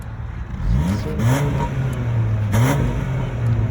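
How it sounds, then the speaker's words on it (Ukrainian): Two light blips of the throttle on an American-built car's engine, each rev rising and falling quickly over a steady idle, close by with no talk. "Можете легенько газнути?"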